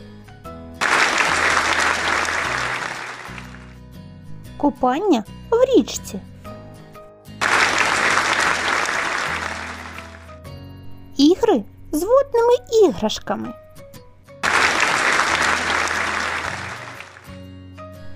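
A group of children claps hands in three lively bursts of a few seconds each, with someone speaking between them.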